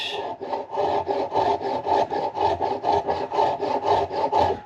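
A tool scrapes and rasps along the wooden neck of a 1937 Martin D18 guitar being shaved down, in a steady, rhythmic series of about a dozen close, loud back-and-forth strokes.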